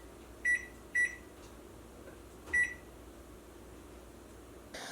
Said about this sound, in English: And set the timer for 23 minutes.